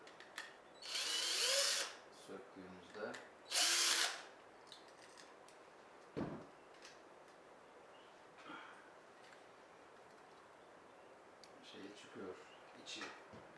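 Cordless power drill backing two screws out of an electrical fitting in a village house under construction, with two loud whirring bursts near the start and shorter handling clicks and taps afterward, close by.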